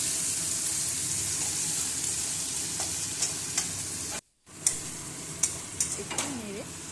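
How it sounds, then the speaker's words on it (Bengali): Capsicum pieces are stir-fried for chilli chicken, a steady pan sizzle broken by a brief silent gap, with scraping spatula stirs clattering near the end. "এবার ক্যাপসিকাম যে টুকরোগুলো করে রেখেছি সেগুলো দিয়ে দিচ্ছি।"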